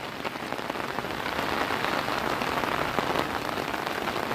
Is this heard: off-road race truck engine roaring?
no